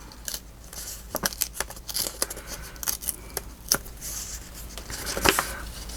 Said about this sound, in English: Do I want to cut the calendar down a little bit more?